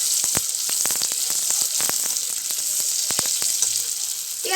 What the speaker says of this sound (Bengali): তেলটা গরম হয়ে গেছে, এখন আমি এতে পেঁয়াজ কুচি দিব।